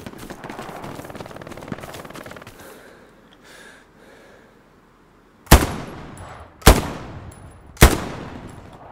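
Gunfire from the World War II shooter Omaha Warfare: a stretch of distant, muffled shooting and rumble, then three loud, sharp gunshots at close range, spaced about a second apart, with no voices.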